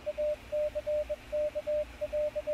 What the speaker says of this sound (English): A small speaker chirps out a series of spasmodic beeps amidst a sea of static.